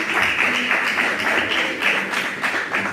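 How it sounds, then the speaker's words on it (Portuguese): A church congregation claps joyfully during a Portuguese-language sermon: dense, steady clapping from many hands fills the space with a loose rhythmic patter, close and fairly loud, with no one speaking over it. "E bate palmas bem alegre para Jesus"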